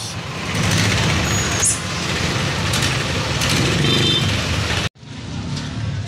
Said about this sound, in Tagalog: Nakikita nyo naman ang Divisoria oh, kung gaano ka-traffic.